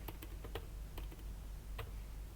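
Keystrokes tapping on a computer keyboard as a command is entered for a Django project, a quick run of sharp clicks in uneven rhythm followed by a firmer final press of Enter, close and clear over a low steady hum.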